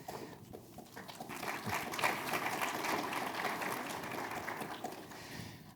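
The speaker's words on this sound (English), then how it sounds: "Please, a round of applause for the panelists." Applause from a conference audience greeting a panel on satellite and telecom integration. The clapping swells to a steady, fairly loud patter near the middle and then tapers slowly, with no clear talk over it.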